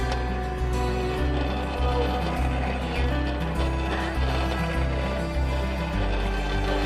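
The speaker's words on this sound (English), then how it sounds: "when I push the blower and it forces air under the fire" Hand-cranked blacksmith forge blower forcing air under the fire while a spoon is being forged, a continuous close mechanical whir with rhythmic ratcheting gear clatter and a low rumble.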